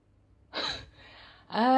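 A house cat meows indoors: a soft breathy burst, a quiet pause, then a clearer tonal meow at the end, all short and fairly faint.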